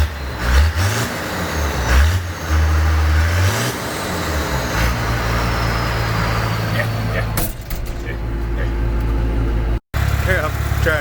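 A tractor engine idles and revs at a site where equipment is moved and tree lines pushed back, a loud, close low rumble with rising and falling throttle surges, a brief dropout near the end.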